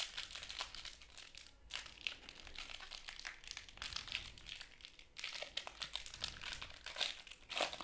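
Crinkly plastic wrapper of a Turbo Attax 2021 trading card pack being torn open and handled up close, steady rustling and crackling in bursts with a short pause midway, no talking.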